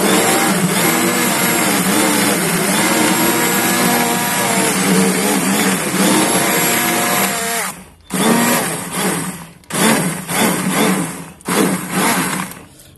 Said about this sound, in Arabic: هنضربها بالهاند بلندر او في الخلاط